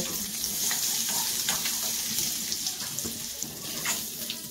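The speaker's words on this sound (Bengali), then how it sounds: "আলুগুলো একটু ভাজা ভাজা হতে থাক, তারপর তুলে নিয়ে দেখছি।" Potatoes frying in oil in a kadai, a loud continuous hiss and crackle with stirring scrapes throughout, close up and uninterrupted by speech.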